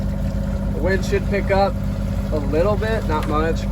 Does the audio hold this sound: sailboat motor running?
yes